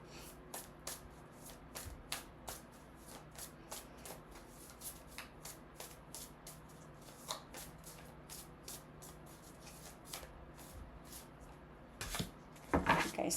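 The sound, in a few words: shuffling and pulling tarot cards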